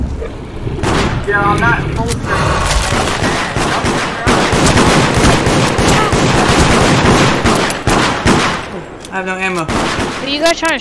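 Rapid gunfire in the multiplayer game Deceit, with dense bursts and single cracks crowding together. Several players talk and shout excitedly over the shooting.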